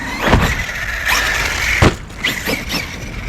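An Arrma Kraton EXB RC car's powerful electric motor whines and revs in sharp bursts close by, with squealing tyre scrabbles and rising pitch sweeps as it accelerates over a few seconds.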